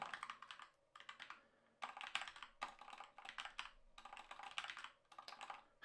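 Fast typing on a computer keyboard, close up, in quick bursts of clicking keys with short pauses between them and no voices.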